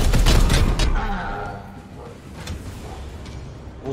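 Gunfire in the tactical game Warhammer 40,000: Chaos Gate Daemonhunters, a dense burst of shots at the start thinning into scattered impacts and rumble, with game sounds continuing throughout.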